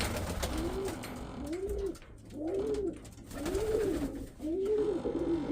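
Pigeons in a loft coo close by, five drawn-out, rising-and-falling calls spaced about a second apart over a low rumbling background, with no one speaking.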